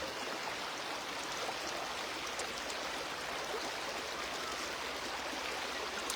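Flowing river water, a constant, even hiss of running current with fine splashing texture, steady throughout and with no voices.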